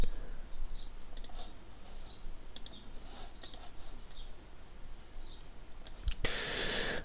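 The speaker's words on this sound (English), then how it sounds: "Next, I'll right click." A computer mouse gives a few faint, sharp clicks scattered over a quiet room hiss, with a louder burst of noise near the end.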